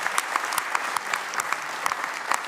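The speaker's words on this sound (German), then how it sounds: "Applaus" Studio audience at a German Schlager television show applauding steadily, a dense even clapping that stays alone and fairly loud throughout.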